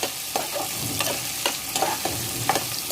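Chopped onion and green chilli fry in oil for a Telugu broad bean and tomato curry. A steady sizzle runs throughout, broken by regular scraping stirs about every half second. No one speaks.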